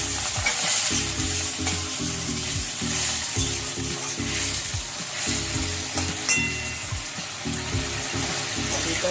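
Fig curry (dumurer dalna) with potatoes sizzles loudly in a pan as water goes in, bubbling and hissing continuously while stirring strokes scrape through in a repeating rhythm; no voices.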